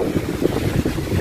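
Strong wind gusting across an outdoor hotel pool area in Hurghada, Egypt, a steady, close buffeting roar with low rumbling wind noise against the microphone and no speech.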